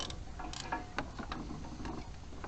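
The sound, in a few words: slackening exhaust manifold bolts on a Range Rover Classic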